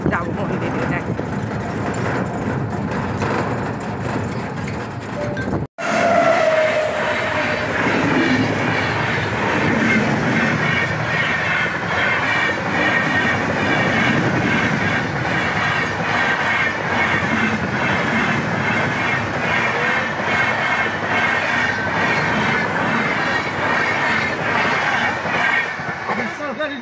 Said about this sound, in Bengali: ট্রেন চলে গেল, বোঝা গেল না কি গাড়ি, এক্সপ্রেস গাড়ি।